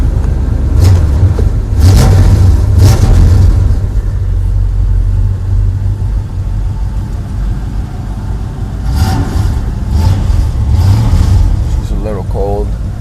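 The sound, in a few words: 1972 Chevelle engine starting and running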